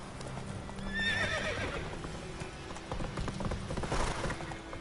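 Roach, the horse in The Witcher 3 video game, clip-clops along with steady hoofbeats and gives a bright, rising neigh early on, followed by more trotting and game ambience through the rest of the moment.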